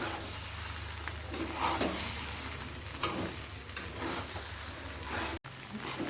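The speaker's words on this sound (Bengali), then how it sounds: "দেখুন কি সুন্দর আমি ভাজা ভাজা করেছি।" Rice frying in a pan with cumin powder, a steady broadband sizzle with occasional stirring scrapes, close and continuous, with a brief clatter near the end and no talking.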